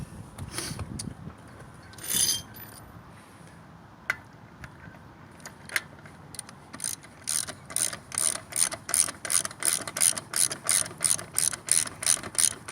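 A hand ratchet works a stubborn wheel nut on a 2004 Buick LeSabre, a few isolated clicks and a scrape, then a steady close rhythm of sharp ratcheting bursts repeating about twice a second.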